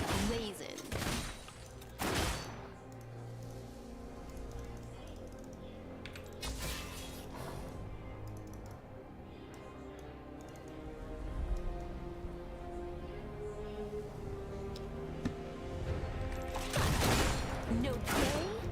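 Gunfire from turrets and weapons in a video game, several loud bursts and rapid volleys at intervals over a steady game soundscape, with voices talking in between.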